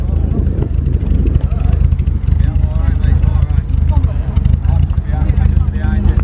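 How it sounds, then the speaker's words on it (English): A Volvo 144S historic rally car's straight-six engine drones and revs nearby through the whole stretch, with someone talking over the engine noise throughout. "Very cool sounding straight six engine."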